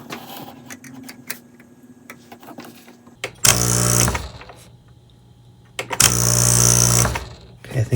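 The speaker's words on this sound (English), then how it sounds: "Okay, I think that's the pump running. Yeah, that's definitely the pump." A repaired Breville Barista Express espresso machine's pump runs in two loud buzzing bursts, each about a second long, separated by quieter clicks and handling noise.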